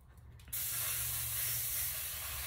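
A can of cooking grease spray sprays onto a cake pan: after a brief quiet moment a steady, close hiss starts and continues unbroken for about two seconds.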